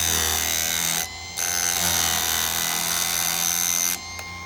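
A Chicago Electric chain saw sharpener grinds the teeth of a chain in a loud continuous whine, with two brief dips where the wheel lifts off between teeth.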